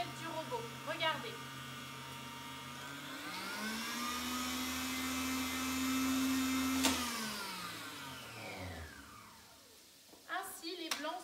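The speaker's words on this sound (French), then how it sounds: "Vous laissez la vitesse sur maximum et vous ouvrez votre robot sans ouvrir complètement la tête du robot." A Cooking Chef stand mixer whisks egg whites at maximum speed, a loud steady motor whir with a strong hum that holds level, then winds down and fades as the head is opened, with brief clatter at the end.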